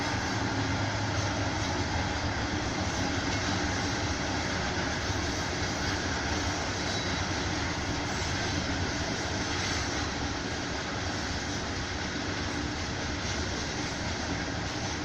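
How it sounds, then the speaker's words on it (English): A loud, steady rumble and roar of a train passing close by, continuous throughout with no talking. "You guys can hear a train come by, so bear with me."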